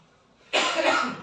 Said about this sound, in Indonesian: agak batuk ini waktu